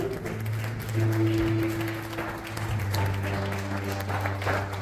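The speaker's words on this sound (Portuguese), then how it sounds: "Você pode dar uma salva de palmas ao seu Pai." A church congregation breaks into steady applause during a worship service, the clapping continuous and fairly loud over a sustained low keyboard or organ drone.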